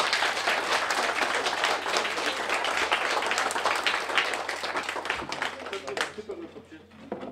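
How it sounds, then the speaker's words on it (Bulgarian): Sustained, fairly distant applause from guests at a graduation ball for a female graduate, even and dense for six seconds before tapering off into a few claps. "Аплодисменти за абитуриентката още веднъж."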